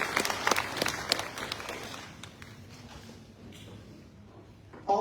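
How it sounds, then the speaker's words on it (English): An audience at a school Students of the Month ceremony gives a round of applause for the sponsors. A burst of clapping fades after about two seconds into quiet room noise with a few scattered claps. "So let's give a round of applause to our sponsors."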